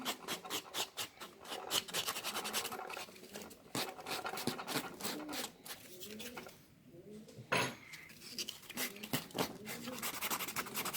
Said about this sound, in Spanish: cumple la función de lijar